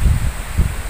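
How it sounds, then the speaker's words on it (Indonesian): Strong gusting wind rushes through garden trees and rustles leaves, a loud, close, low roar swelling in two quick surges. "Angin banter banget,"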